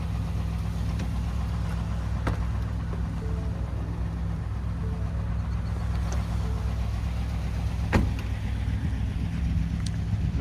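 A 2017 Ford F250 Lariat Super Duty idling: a steady low engine hum that holds even and unchanging throughout, with a couple of faint clicks and knocks on top and no talking.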